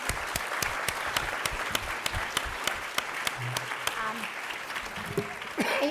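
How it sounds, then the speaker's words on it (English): Applause for a panel at a public health event, a steady crowd clapping with a few sharp, distinct claps standing out near the listener, and faint voices beginning toward the end. "let's give a big round of applause for the terrific panel"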